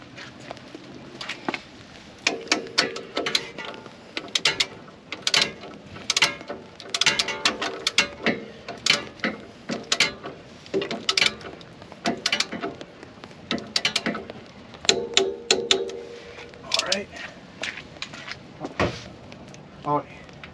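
Ratchet wrench clicks in quick bursts while tightening coilover bolts on an ND Mazda Miata, close and fairly sharp, with intermittent metallic clatter and pauses between strokes, and no voices over it.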